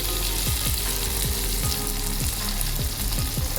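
Onions sizzle steadily in a hot pan while cooking for an anchovy curry, a dense continuous frying hiss with a few soft periodic stirring knocks, close and loud, with no talking.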